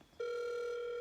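A landline telephone gives a single steady electronic tone that starts abruptly and holds loud and clean, with no voices over it.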